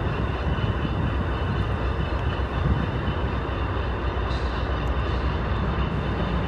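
A freight train with a caboose rolls past near Marquette's upper harbor, a steady dense rumble and rattle of railcars holding at constant loudness throughout, with no voices over it.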